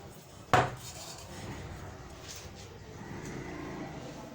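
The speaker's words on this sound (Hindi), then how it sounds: "1 कप सूजी डाली हमने इसमें।" Semolina goes into a pot on the stove with a sharp metallic clank at the start, followed by soft scraping and rustling of the grains against the pan, quiet and close, with no speech.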